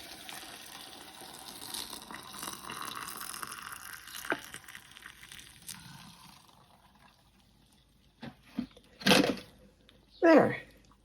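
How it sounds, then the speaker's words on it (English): Boiled water pours from a kettle over fresh nettle leaves in a teapot outdoors, a soft continuous splashing trickle for several seconds, followed by quiet clinks and a few short louder knocks, with someone talking nearby. "boil some water and pour it over the leaves"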